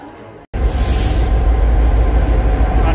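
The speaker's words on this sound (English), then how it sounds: "Front half of the train just doing a big generator." A train's big generator running, heard close and loud: after a brief silent gap it kicks in as a steady heavy rumble with a hissing burst at the start, then keeps droning evenly.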